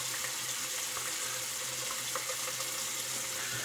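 Tap water running steadily into a sink while a man wets his face before shaving, a constant close splashing hiss at low volume with no talk.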